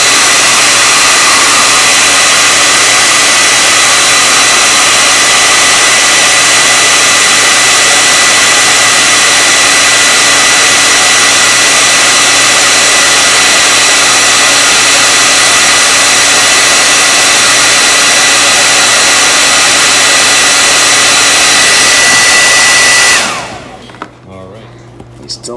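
A heat gun blows steadily and loudly on fuel line tubing for a barbed fitting on a CGS Hawk aircraft, a continuous broadband hiss-roar that cuts off abruptly near the end.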